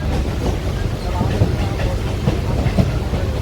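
Steady rumble and rhythmic clatter of a crowded Diva–Roha DMU passenger train running in heavy rain, continuous and close, with indistinct crowd chatter blended into the noise.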